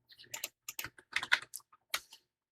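Computer keyboard typing in short irregular bursts of close, crisp key clicks with brief pauses between, quiet and alone.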